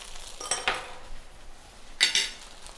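Cornbread dressing, Brussels sprout leaves and leftover turkey dropped back into a pan for Thanksgiving fried rice, with a couple of bright clinks and scrapes of a utensil against metal around quiet pauses.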